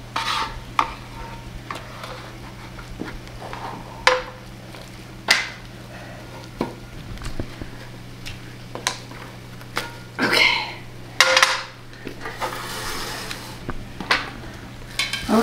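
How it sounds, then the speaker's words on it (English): Sauce scooped from a cast iron pan and spooned over meat during camp food prep at Bryce Canyon, heard as intermittent utensil scrapes and clinks against the pan, moderately close over a steady low hum. "I am scooping this sauce out of here and putting it over the"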